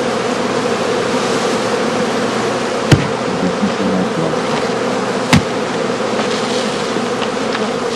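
Honey bees in a straw skep hive make a dense, continuous buzzing, close and loud, broken twice by brief sharp knocks.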